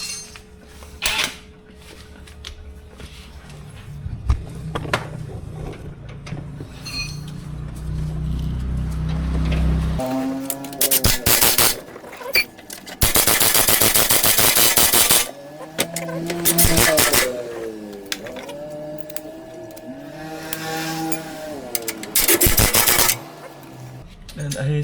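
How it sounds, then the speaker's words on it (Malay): Lower arm bolts being tightened on a Perodua Myvi, with bursts of metallic clicking and whirring tool noise and clanks between pauses, close by, mixed with someone talking. "Kita ketat dulu skru bawah ni."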